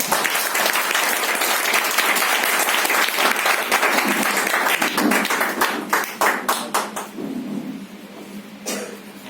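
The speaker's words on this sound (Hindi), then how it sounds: "तालियों से आपने स्वागत किया" An audience applauds at a sales training event in a hotel in Kichha, India: dense, loud clapping from a crowd that holds steady for several seconds and then thins into scattered individual claps as it dies away.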